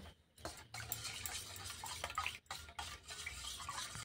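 A spoon stirs sugar into a fruit drink, giving repeated swishing and clinking strokes in quick irregular bursts with brief pauses between.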